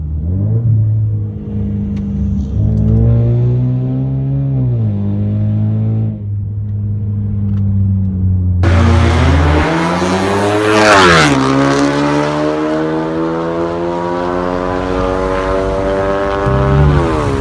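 A 2016 Ford Mustang 2.3L EcoBoost with an aftermarket DRIFT Xaust exhaust idles with a deep, throaty burble, then revs hard and loud before settling back into a rough, rumbling idle.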